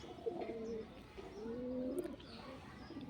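Pet pigeon at a pigeon keeper's home, giving soft, low cooing calls in two or three rounds, close but faint over quiet background.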